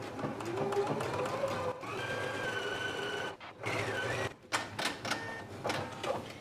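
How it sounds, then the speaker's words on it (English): Sewing machine stitching the side seam of a pair of pants, a steady whirring rattle of the needle with short stops and restarts, fairly quiet and close. "go ahead and take it to the machine and sew them in place"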